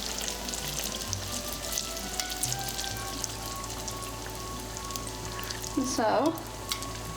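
Beignets deep-frying in hot oil on a stove with an open flame, a continuous dense sizzle and crackle with a brief bubbling surge partway through, under a few quiet spoken words.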